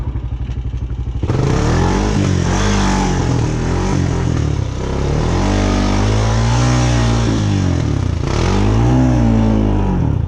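A Honda Recon ATV plows through a mud hole, its engine revving hard and loud close by with clattering and splashing throughout.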